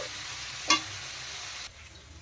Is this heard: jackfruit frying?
yes